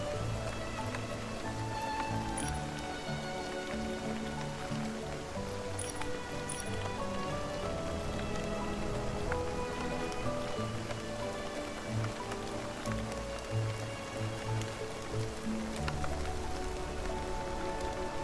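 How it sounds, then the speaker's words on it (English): Steady rain patters on surfaces outdoors, a continuous, fairly quiet hiss of drops that lasts throughout without pause and without voices. "Worst thing is that it's raining as well."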